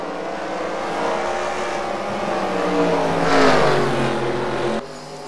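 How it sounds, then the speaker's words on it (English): Race cars accelerating around the South Boston short track in the NASCAR Racing 2003 video game, a steady layered engine drone that swells to a louder pass near the middle and then cuts off sharply before the end. "In the 88 car, Bart Simpson's right now battling for third"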